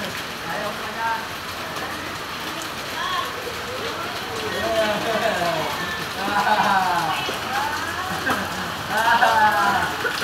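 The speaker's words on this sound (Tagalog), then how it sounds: "Lakas ng ulan guys, oh." Heavy rain pours down at a resort in Nagcarlan during a family Christmas gathering, a steady broadband hiss running throughout beneath several people talking and calling out.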